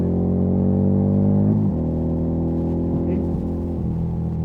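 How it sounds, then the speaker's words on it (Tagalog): Motorcycle decelerating under engine braking, a steady harmonic engine drone that falls in pitch with a shift partway through, close and continuous. "Now we'll slow down. Engine brake."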